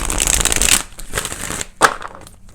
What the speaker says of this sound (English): let's go ahead and do 4 major shuffles for you here